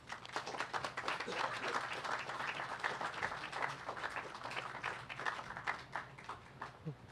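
An indoor audience applauds to welcome a speaker at a history talk, with dense, steady clapping from many hands that holds at an even level throughout.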